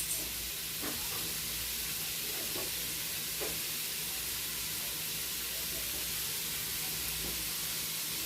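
Thinly sliced white scallions and ground pork, seasoned with Southwest spice, fry in a pan for green enchiladas, giving a continuous soft sizzle and hiss with a few faint stirring clicks and no talk.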